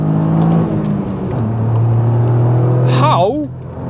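A Toyota GR Yaris with its small three-cylinder engine pulls hard under acceleration, a loud droning engine note rising in pitch, then a quick upshift with a sweeping tone change near the end, heard from inside the car.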